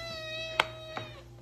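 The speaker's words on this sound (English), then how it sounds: "that's an easy one, that's a cat." Two short cat meows, the first louder and the second softer, against a steady background hum.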